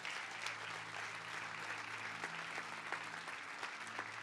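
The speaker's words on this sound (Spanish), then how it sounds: "Denle un fuerte aplauso." A church congregation breaks into steady, sustained applause, a dense field of clapping that fills the room at moderate volume, with a low hum beneath and no speech over it.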